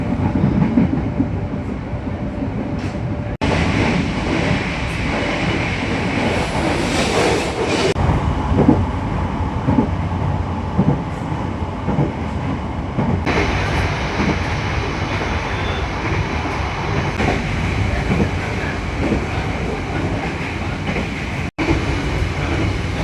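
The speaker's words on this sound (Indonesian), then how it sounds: "Oh, KRL. Wih, KRL Jogja Kutoarjo kayaknya ini." A KRL commuter train on the Jogja–Kutoarjo line rolls past on the rails with a loud, continuous rumble and clickety-clack of wheels, heard from nearby without speech.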